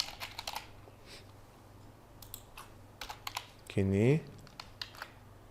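Keystrokes on a computer keyboard while text is entered during editing, arriving as scattered soft clicks in short bursts, with a brief voice cutting in partway through.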